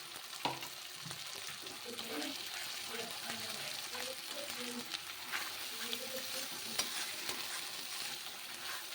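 Masala with salt and turmeric being stirred and fried in a pan for prawn malai curry, giving a steady close sizzle with scraping strokes from the spoon throughout.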